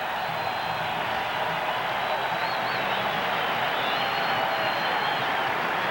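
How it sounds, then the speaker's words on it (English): A large arena crowd at Madison Square Garden gives a sustained, dense roar of cheering and applause that holds at an even level from start to finish. "received this rousing ovation from the Garden crowd"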